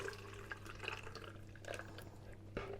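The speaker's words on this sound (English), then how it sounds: "I'm going to pour this now into a jug." Custard mixture for a crème caramel is poured into a jug, a soft, quiet liquid trickle with light splashes and faint drips in a kitchen.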